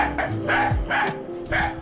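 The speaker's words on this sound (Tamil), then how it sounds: "நாய் குறைச்சிக்கிட்டு இருக்கு பாரு" A dog barks about three times in quick succession, loud and close, with no talking around it.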